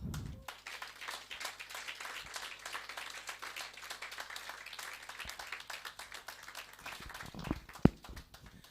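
An audience at a Rotary Club of Lavington brunch claps steadily for the club president, with dense, sustained applause over several seconds and a sharp knock near the end.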